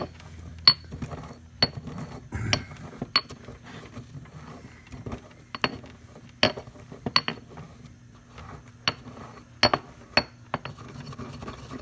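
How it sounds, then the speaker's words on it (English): Grain being ground finer for a brewing mash, heard as a series of sharp, irregular clinks and knocks, fairly close, spread over several seconds with quieter scraping in between. "I'll grind that a little bit finer"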